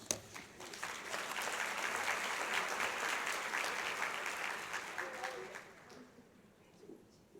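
A conference audience at an aging-services general session applauds award winners, a sustained, dense round of clapping from a large crowd that swells early, holds steady, then thins out toward the end.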